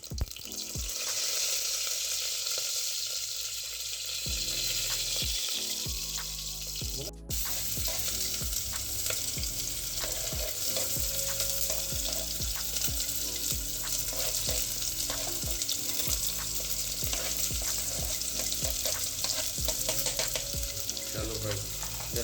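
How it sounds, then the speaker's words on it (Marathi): Paneer cubes frying in a pan for paneer biryani, a steady close sizzle running throughout with scattered crackles and clinks of stirring, after a brief spoon clatter early on. "सर्व साईडने पनीर फ्राय झालं पाहिजे"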